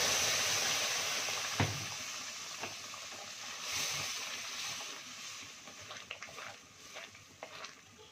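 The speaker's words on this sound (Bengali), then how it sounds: "এবার ডালটা ঢেলে দেবো।" Lentils (dal) poured into a pan of fried spices and whole green chilies give a steady, broad sizzling hiss that gradually settles, with soft stirring clatter and a few light knocks toward the end.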